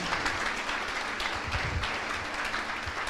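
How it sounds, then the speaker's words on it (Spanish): A church congregation applauds in a steady, dense wash of clapping from many hands, moderately distant and sustained, with a few low thumps underneath. "Denle un aplauso al Señor porque estás entendiendo."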